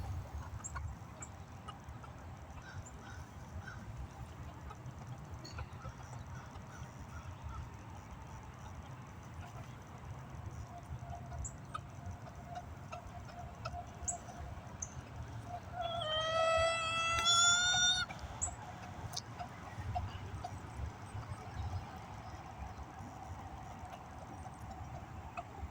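Backyard chickens heard outdoors, with a faint background of birds and one brief burst of clucking or crowing rising clearly above the ambient noise partway through.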